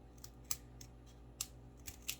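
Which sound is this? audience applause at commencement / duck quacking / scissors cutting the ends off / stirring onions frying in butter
scissors cutting the ends off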